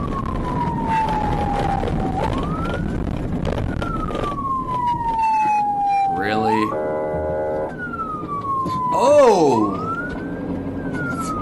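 Wailing ambulance siren on an emergency run with a patient in severe breathing distress, sweeping up and down loudly and close, then switching to a fast yelp pattern, while a voice briefly exclaims over it.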